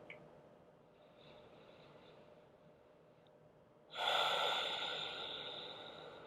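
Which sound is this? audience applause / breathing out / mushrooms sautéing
breathing out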